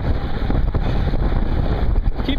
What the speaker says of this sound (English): a little wind.